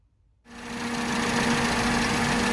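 Freshly tuned car engine fitted with a modified ABD carburettor needle starts after a brief quiet moment and settles into a steady, even idle with a constant mechanical hum, close by and alone.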